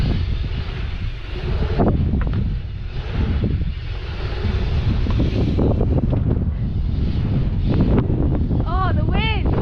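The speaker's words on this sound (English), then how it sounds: "Oh, the wind!" Strong gusts buffet a camera microphone at an outdoor pump track, producing a continuous loud roar with rumbling swells; voices call out briefly over it.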